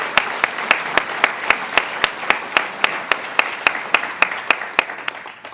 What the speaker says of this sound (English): if you guys can just give yourselves a round of applause right now